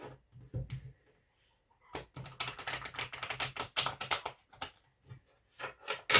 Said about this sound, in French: Donc je vais bien brasser mes cartes.